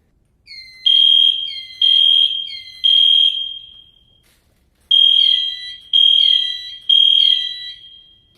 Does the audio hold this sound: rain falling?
no